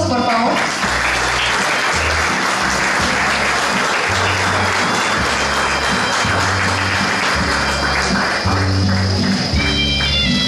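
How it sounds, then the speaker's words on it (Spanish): Sustained audience applause at a literary awards ceremony in La Democracia, Escuintla, dense clapping filling the hall over a steady low musical backing. "Fuertes aplausos, por favor"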